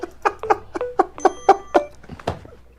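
A Samsung phone rings with a melodic electronic ringtone, a quick sequence of bright tones repeating, clear and fairly close.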